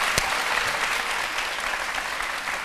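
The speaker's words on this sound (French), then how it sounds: "Merci de vous applaudir." An audience claps steadily and loudly for a fan club gift, dense continuous applause filling the room from start to finish.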